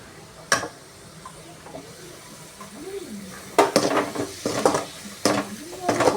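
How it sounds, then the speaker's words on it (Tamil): Two chopped tomatoes dropped into a hot pan of frying masala for egg macaroni, with sharp clatters and stirring scrapes of a spoon against the pan over a low sizzle, coming in bursts later on. "இந்த 2 தக்காளி இப்போ போடுறேன்."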